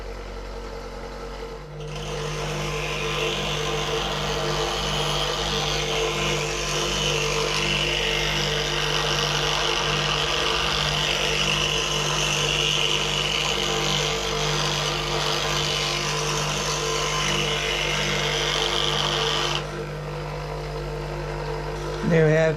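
A continental-style spindle gouge is ground on a bench grinder with a Raptor grinding jig, giving a steady, loud, close whine with a constant motor hum that runs for about eighteen seconds, then cuts off.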